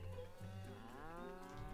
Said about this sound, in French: Mes vaches, elles sont très heureuses, très bien.